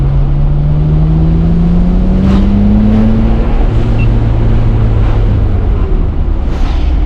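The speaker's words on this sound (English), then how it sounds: "So let's test these brakes downhill, get our speed up a little." A Nissan Skyline R32 GTR with an RB26 engine gathers speed downhill, its engine droning loud and close inside the cabin with a rising tone as revs climb, then easing slightly.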